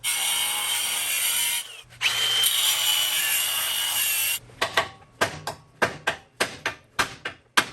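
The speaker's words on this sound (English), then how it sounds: "It needs a little more. Needs a little more cutting." A power tool cutting metal during a rear shock relocation kit install grinds loudly and steadily for several seconds, pauses, then gives way to a run of sharp, rhythmic hammer knocks and short bursts.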